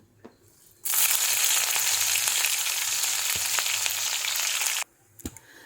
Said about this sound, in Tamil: இது ஆயிலில் நான் இப்போது அந்த பச்சை மிளகா போடுறேன்.